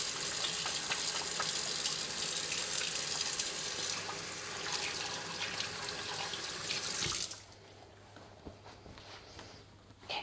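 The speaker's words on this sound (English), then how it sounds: "just splattered water all over the kitchen" Water gushing from a faucet into a kitchen sink, a loud steady rushing splash that cuts off abruptly, followed by quieter room noise and faint clatter.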